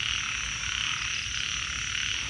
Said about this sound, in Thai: ยามฝนตกเสียงกบเสียงเขียดห้องแซวแซว